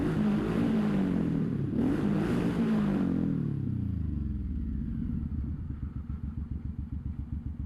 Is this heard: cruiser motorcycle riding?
yes